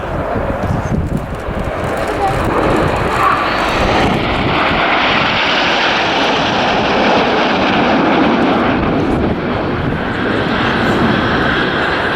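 An Avro Lancaster bomber makes a flypast at the RAF Leuchars airshow, its piston engines giving a loud, deep, throbbing roar that swells and then fades as the plane passes, with a commentator speaking over it.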